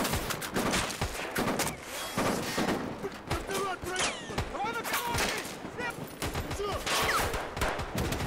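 Gunfire in the video game Escape From Tarkov during a raid rattles in rapid, dense bursts of close shots, continuous and loud with muffled voices underneath.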